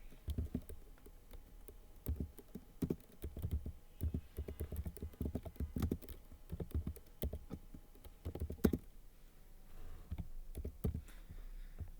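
Rapid, uneven clicking of keys on a computer keyboard while filling in a procurement spreadsheet, close and fairly quiet, with short bursts and pauses and no talking.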